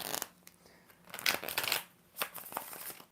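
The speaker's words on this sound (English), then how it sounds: "4 shuffles." Tarot cards being shuffled by hand in several quick riffling bursts, close and crisp, with brief pauses between shuffles and no talking.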